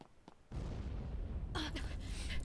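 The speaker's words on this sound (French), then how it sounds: "Oh, ça c'était l'explosion quand il est tombé." An explosion in the video game Final Fantasy XIII: a faint lead-in, then a sudden loud blast bursts in and sustains as a heavy rumbling roar, with sharp crackling debris and bright bursts layered on top.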